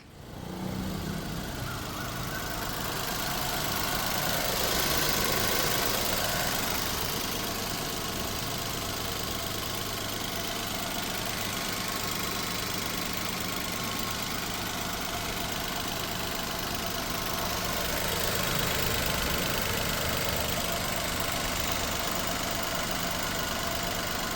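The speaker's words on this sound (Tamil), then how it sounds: "இன்ஜினை ஸ்டார்ட் பண்ணி இன்ஜினோட சவுண்டு எப்படி இருக்குன்றதை அதையுமே நான் காட்டிடுறேன்" A 2014 Datsun GO T engine idles steadily for a long stretch, a continuous mid-low hum with slight swells in loudness and no voices.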